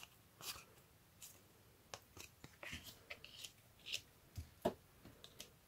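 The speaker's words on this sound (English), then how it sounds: "But you have to cut all those little threads." Scissors snip little threads off fabric labels in quick, quiet, irregular cuts, close and alone in a hushed room.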